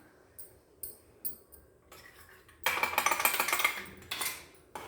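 Almonds and pistachios roasting in ghee are stirred in a pan, producing scattered metallic scrapes and clinks that build into a denser burst of close rattling and sizzling before easing off.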